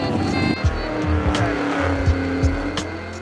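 A car does burnouts in Montana, its engine roaring loud and close while the tires squeal and skid continuously, with sharp revving bursts over the few seconds.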